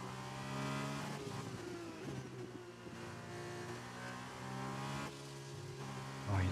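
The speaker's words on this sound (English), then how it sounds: "his downshifts feel like it hurts the engine" Formula 1 race car engine in the F1 2021 racing game, heard from an onboard view: a loud, steady, high-revving engine drone with shifting pitch and brief dips as gears change, ending with a sharp rise.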